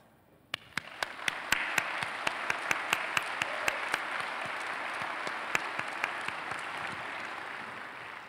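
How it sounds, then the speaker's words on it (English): Applause at a graduation baccalaureate ceremony swells from a crowd and holds steady, with a few sharper individual claps standing out, somewhat distant. "I'd like to offer a round of applause"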